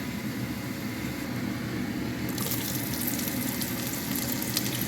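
Curry powder and garlic hit a pan with a little oil, and a soft, steady hiss swells into a brighter sizzle partway through.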